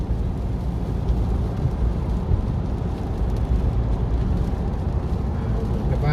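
Heavy rain and strong summer-storm wind sweep across Motorway 9 in Thailand as a steady, low roaring wash of noise that holds evenly throughout.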